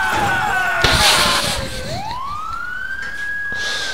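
An ambulance siren in GTA IV wails loudly up close, its pitch dipping and then sweeping back up into a steady high tone, over game traffic noise and a crash-like thump.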